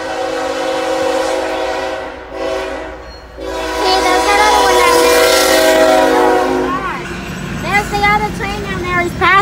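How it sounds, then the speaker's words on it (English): A loud, sustained BNSF train horn blares close by at Camp Road, Moreland, Georgia, fading briefly before sounding again over rumbling rail noise. "He has a loud horn."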